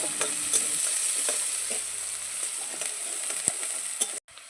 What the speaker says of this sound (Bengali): এবার আমি পেঁয়াজটাকে যতক্ষণ না লাল লাল হয়ে ভাজা হয়ে আসছে ততক্ষণ পর্যন্ত ভালো করে নেড়ে নেব।